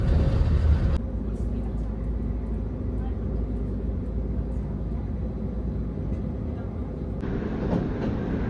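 Train running, a steady low rumble and rattle of rolling stock heard from inside, continuous and fairly loud, with a shift in tone near the start and end and speech mixed in.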